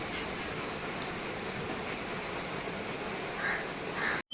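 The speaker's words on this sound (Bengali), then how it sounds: "আলটিমেটলি বৃষ্টিটা শুরু হলো" Rain falls in a soft, even hiss at a distance, faint and continuous, with a few brief bird calls.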